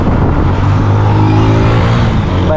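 A motorbike engine runs steadily and loud at close range as the ride begins, a continuous low hum with faint whir and no voices.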